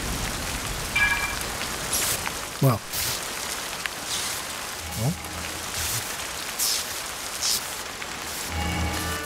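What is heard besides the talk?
rain in Zelda Tears of the Kingdom video game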